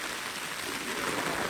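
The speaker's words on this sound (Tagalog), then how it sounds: "ang lakas ng ulan" Heavy rain pouring down at a mountain campsite in Atok, Benguet, hammering steadily on a tent and the ground, a dense, loud, unbroken hiss close by.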